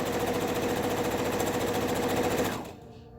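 A sewing machine stitches a curved tutu strip onto ribbon, running at a steady, fast, close whir for about two and a half seconds before slowing and stopping.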